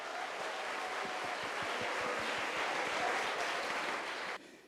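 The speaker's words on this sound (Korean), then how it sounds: "박수 부탁드립니다." An audience applauds at the opening of a Gyeonggi regional round of a youth mock trial competition. The clapping is a thick, sustained wash with a few rhythmic claps inside it, and it cuts off abruptly near the end.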